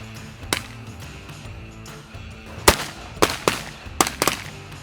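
Shotgun shots ring out during a mallard and Canada goose hunt, one early report followed by a quick cluster of loud blasts in pairs, sharp and fairly close outdoors.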